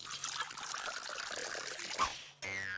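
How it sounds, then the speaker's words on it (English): Water poured from a container into a large jar filled almost to the top, in a science demonstration on amphibian skin. A soft, continuous splashing trickle runs for about two seconds, then cuts to a different steadier tone. "Take a large jar, and you fill it almost to the top with water."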